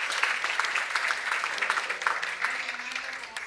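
An audience at a conference session applauds a presenter named Marcos, a sustained patter of clapping hands that fades slightly toward the end.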